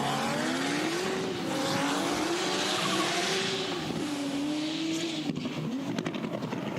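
A drift car with a 2JZ engine screams through a qualifying run at a Borneo Star Drift Series round, its engine note rising and falling over loud, continuous tire squeal, close and sustained.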